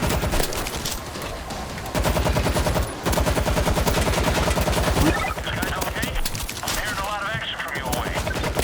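Dense, sustained automatic gunfire from World War Z on a New York level, with rapid overlapping bursts that continue almost without pause, loud and close.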